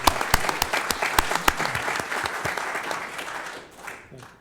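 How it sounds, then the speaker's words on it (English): Council members at a city council meeting applaud, a burst of sharp claps that thins out after a few seconds, with a little murmuring at the end. "colleagues, I think we owe him an applause for that"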